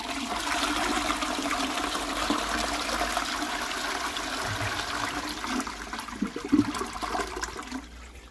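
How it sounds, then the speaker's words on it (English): A Qualitas Sandringham 7.5/6 litre close coupled toilet from around 2000 flushes with a loud rushing gush of water that swirls and drains, then tapers into gurgling and trickling refill near the end. "So yeah, I'll show you the flush."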